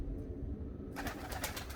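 Pigeons cooing softly at a Turkish pigeon loft, low murmuring calls under a steady background hum, with brighter fluttering or rustling sounds joining in the second half.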